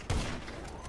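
A single sharp gunshot in the video game GTA Online, one abrupt loud report followed by a brief decaying tail.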